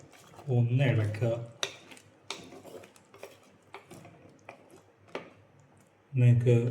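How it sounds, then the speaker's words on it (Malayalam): A utensil clinks and scrapes against a pan while mango curry is stirred, sharp taps scattered through the pauses between bursts of close speech. "ഒന്ന് ഇളക്കുക."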